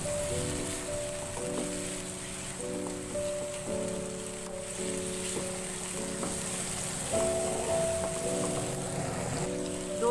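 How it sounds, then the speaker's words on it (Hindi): Chicken fries with garlic ginger paste in a pan over a high flame, giving a steady, close crackling sizzle that runs on without a break while faint tonal hums sit beneath. "फ्लेम को हाई करेंगे और इसको थोड़ा सा लहसुन अदरक के साथ भूनेंगे।"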